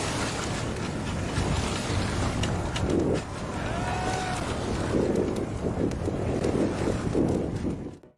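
Steady wind and rough water wash around a ship at sea, with a constant full roar and a few faint tonal creaks.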